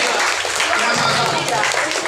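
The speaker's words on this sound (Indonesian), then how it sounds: "tepuk tangan untuk kita semua yang telah mendapatkan kue" Audience at an Islamic class on washing the dead applauds one another for receiving cake, a busy wash of clapping with voices mixed in beneath it.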